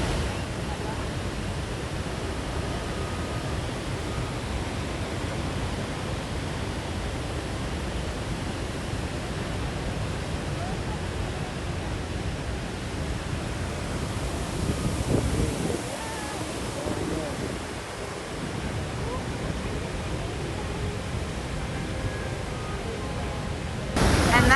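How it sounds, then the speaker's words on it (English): A steady, dense roar of rushing water at Niagara Falls fills the whole clip, broad and unbroken like a powerful waterfall nearby, with a brief dip partway through. "That's because the falls really are that loud."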